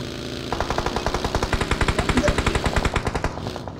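Rapid automatic gunfire in a video game tournament match, fired at a tank: a loud, steady burst of evenly spaced shots lasting several seconds, close and alone without talk.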